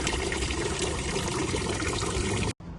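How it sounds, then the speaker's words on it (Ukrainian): Continuous splashing water from a town fountain in Zurich, steady and fairly close, spilling into a basin, cutting off abruptly near the end. "чиста вода в фонтані"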